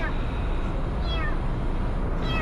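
A pet cat meows a few times over steady indoor background noise, the calls fairly faint and short, while people handle and stroke it nearby.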